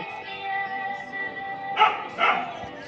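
Two short, sharp dog barks stand out over a steady tonal background, fairly close and moderately loud.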